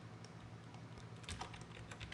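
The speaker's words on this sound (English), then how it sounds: "Now I'm going to rename this solid by hitting return on the main keyboard" Steady typing on a computer keyboard, a quick run of soft key clicks over low background hum, with no voices.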